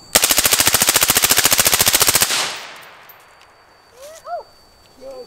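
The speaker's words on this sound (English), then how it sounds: "That's a machine gun." A long, rapid burst of full-auto Bushmaster 5.56 gunfire through a direct-thread suppressor, with sharp, evenly spaced reports, followed by fading echo and a few quiet voices afterward.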